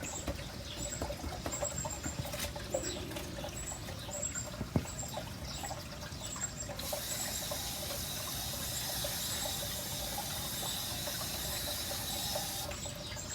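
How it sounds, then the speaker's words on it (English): Water is poured over sand mounded in a birdbath mold, a soft continuous splashing and trickle that grows fuller and steadier partway through, fairly quiet, with no talking. "Yeah, it's going to need a little bit more water."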